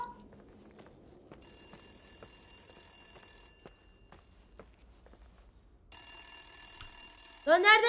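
A phone rings twice in the deserted hotel of The Suicide of Rachel Foster, two bright electronic trills with a quiet gap between them, near and clear, with light footstep-like knocks and a sharp noise closing the clip.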